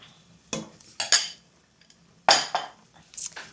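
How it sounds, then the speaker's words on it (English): A spoon scrapes and clinks against a pan while tomato curry sauce with paneer is stirred, a few sharp separate knocks and scrapes with quiet gaps and no talking. "Give that a stir"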